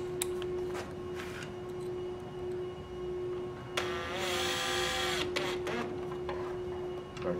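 A power drill fitted with a Phillips bit whines steadily for a little over a second while driving low-torque bolts on an x-drive gear plate assembly, set among quieter handling noises and a constant background hum.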